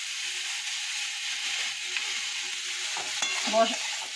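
Water-mixed spice paste goes into onion, ginger and garlic already frying in a pan, giving a steady soft sizzle with stirring scrapes that grow louder toward the end.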